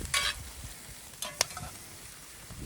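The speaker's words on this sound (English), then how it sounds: "Give it a little stir." A pot of fire-roasted red chili is stirred while it sizzles, with a few brief scraping strokes over a low steady frying hiss and no talking.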